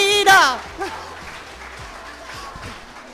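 Supporters cheer and applaud at a 2020 campaign kickoff event in a coworking space, a brief burst of clapping and crowd noise that fades under a speaking voice.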